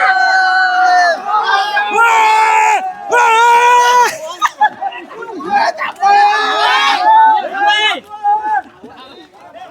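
A village crowd in Kelwane shouts and cheers loudly at close range as a large Holi is carried during its arrival procession, with excited voices rising in repeated bursts and chatter between them.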